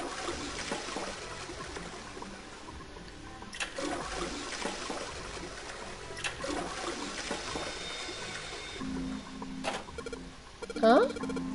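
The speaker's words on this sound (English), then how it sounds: "I heard a loud flushing noise" A toilet flush in the video game Zero Escape: The Nonary Games, a long, faint watery rush that runs steadily, with a few sharper knocks and a brief tonal blip near the end.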